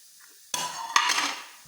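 A utensil stirs roasted dry fruits in a pan over low to medium heat, producing a short scraping rattle with a metallic clink in the middle, close and moderately quiet.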